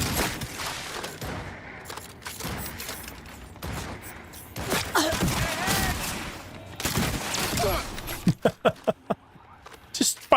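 Smart shotguns firing in Cyberpunk 2077 Phantom Liberty, a steady stream of rapid gunfire bursts mixed with game effects and a voice talking over it, ending in a run of sharp, loud separate blasts.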